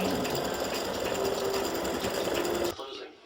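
An embroidery machine stitching a red gnome hat runs with a steady, rapid mechanical chatter up close, then cuts off abruptly near the end, leaving a fainter hum.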